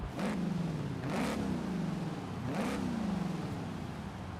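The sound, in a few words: supercharged V8 car engine revving in the video game Forza Horizon 5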